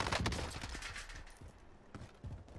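An M4A1 rifle in a Call of Duty match on Rebirth Island fires in close, sharp bursts that fade briefly before another cluster of shots cracks out near the end.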